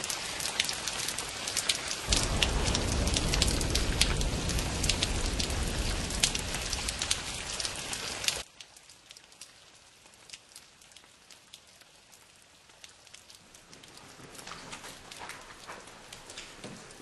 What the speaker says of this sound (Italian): Eh, sai che sta arrivando un acquazzone, Enzo.